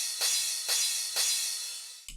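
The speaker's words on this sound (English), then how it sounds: "The crash sounds like this." Bright crash cymbal sample from a house music breakdown, struck three times at an even pace with long washy decays, followed by a short low thump at the very end; up close and alone.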